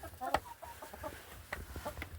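Backyard chickens cluck in short, scattered calls around feeding time, a few louder clucks standing out over low background noise.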